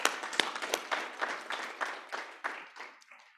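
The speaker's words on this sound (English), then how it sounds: "just give him a hand of applause to come" A small conference audience at a community-based conservation plenary session gives a brief round of applause, a few sharp individual claps at first, then a thinning patter that fades toward the end.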